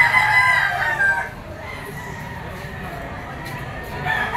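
Several roosters crow loudly and close by at a busy chicken auction market in Lipa, with a long crow at the start and more calls near the end over steady crowd murmur.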